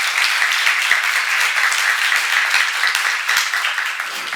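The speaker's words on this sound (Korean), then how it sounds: "박수 한번 쳐봐요." A church congregation applauds steadily at a Bible seminar, a dense, even wash of many hands clapping at fairly close range, with a few sharper individual claps standing out.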